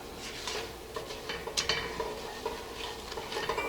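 Flour and fat cook down in a pot for seafood chowder, heard as a soft low sizzle under intermittent scraping and stirring strokes of a spoon against the pot, fairly quiet and close, with no talking.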